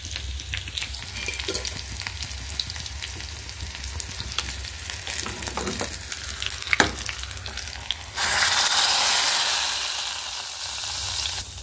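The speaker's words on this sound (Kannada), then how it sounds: "ನೋಡಿ ಕುದೀತಾ ಆಗಲೇ ಗಟ್ಟಿ ಬಂದ್ಬಿಡುತ್ತೆ ಸಾರು." Mixed-bean saaru with garlic cooks in a pot, giving a steady bubbling, sizzling simmer close by with scattered stirring clinks, then a louder, hissing surge in the last few seconds; no one talks.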